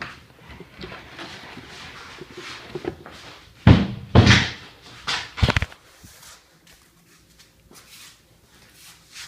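Wooden trap door of a magic sub trunk illusion being handled, several sharp knocks and thuds clustered together followed by a softer clunk, close by, with quiet rustling between the hits.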